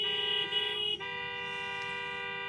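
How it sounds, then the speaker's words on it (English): Steady car horn honking from traffic on Ocean Parkway, a city street, a sustained tonal blare that shifts pitch about a second in and continues, fairly close and alone. "You could hear in the back the sirens and the horns honking on Ocean Parkway"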